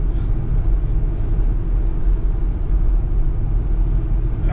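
A 1972 Chevrolet C20 truck engine misfiring and not firing on all cylinders, heard as a steady, loud, low rumbling idle with an uneven, choppy texture and no talking.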